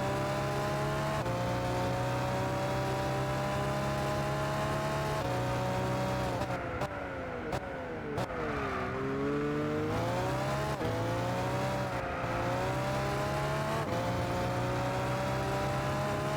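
A race car in Gran Turismo 6 holds a steady engine drone, then its pitch drops and climbs as it brakes and gears change, with brief tire screeches in the middle. No one speaks.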